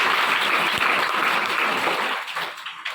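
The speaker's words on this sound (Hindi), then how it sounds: "ताली बजाओ।" Students applaud together in a classroom session with a teacher, a thick burst of clapping that thins out toward the end into a few scattered claps.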